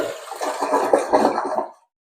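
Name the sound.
toilet flush with Fluidmaster automatic bowl cleaner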